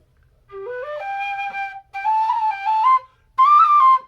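A Shearwater tin whistle in G plays a short melody in three phrases, rising and then holding clear, bright notes, with brief pauses between phrases.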